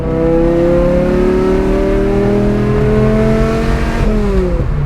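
A V10-swapped BMW E46 M3 revs hard, its loud, dense engine note climbing steadily in pitch before a sudden shift just before the end, where the tone drops and begins rising again.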